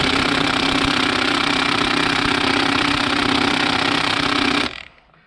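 An impact wrench hammers at a stuck bolt in a loud, close, continuous rattling burst lasting over four seconds, then cuts off abruptly into near silence.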